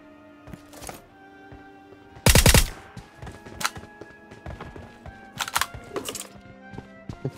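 Sharp, sparse gunshots in the PUBG video game, including one rapid, loud burst and several separate cracks spread across a quieter background.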